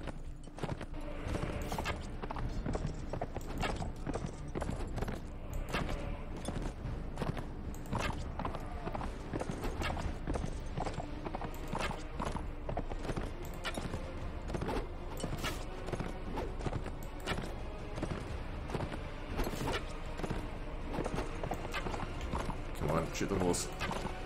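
Steady clip-clop of horse hooves with occasional whinnies and creaking, continuing throughout under a voice talking, in the video game Mount & Blade Imperial Rome.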